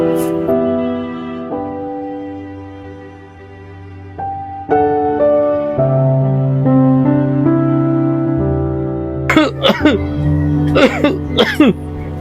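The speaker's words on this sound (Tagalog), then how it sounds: "Naku tay, matagal na yung ubo nyo ah." A man with a lingering cough coughs several times in a rough, broken cluster near the end, heard over a sustained music score.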